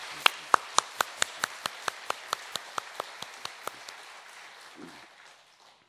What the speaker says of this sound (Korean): 우리 찬양대를 위해서 격려의 박수 한번 보내시죠.